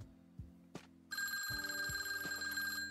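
A telephone rings out while a call is being placed. A few soft knocks come first, then a bright, sustained electronic ring tone, close and steady.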